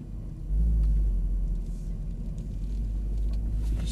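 A Mercedes SL63 AMG rolls slowly forward on a test track, its engine giving a deep, steady low rumble that swells after a moment and then holds, close and fairly loud, with no talking.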